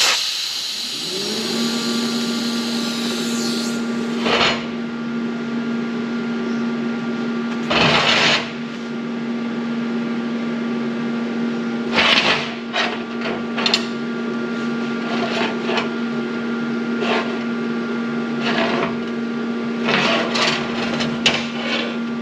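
Welding on a steel display stand frame in a fabrication shop, a steady loud hissing crackle with a constant hum running throughout, broken by several sharp hammer-like knocks and brief spitting bursts.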